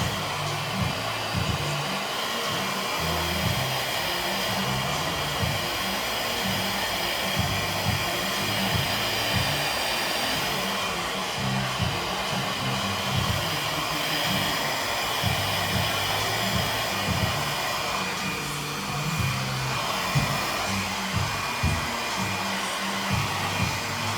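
A hair dryer on a high heat setting blows across very wet 4b-4c curly hair, a loud, steady whooshing drone with slight fluctuations as it moves, continuous and close, with no talking.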